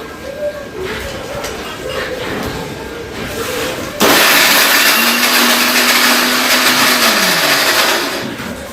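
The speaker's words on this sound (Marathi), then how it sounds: "आता त्याला बारीक करू आपण" A mixer grinder grinds spices finely for a home dinner, starting abruptly as a loud, steady whirring roar that runs for about four seconds after a stretch of quieter background, then begins to wind down near the end.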